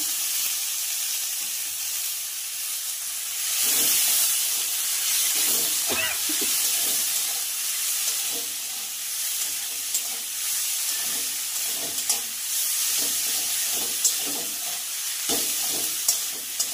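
Water lily stems and shrimp sizzle and hiss steadily in a hot pan, with occasional stirring clatter and small pops over the continuous frying noise; no one speaks.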